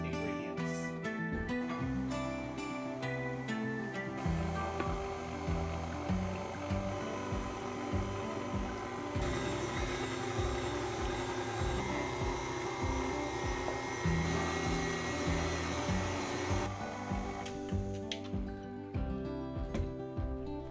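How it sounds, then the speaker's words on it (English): An electric mixer runs on low speed, blending dry and wet ingredients into Black Forest cupcake batter. It gives a continuous close whirring hum with a slightly pulsing motor tone throughout, and no talk. "now with the mixer on a very low speed, we're gonna slowly incorporate the dry and wet ingredients"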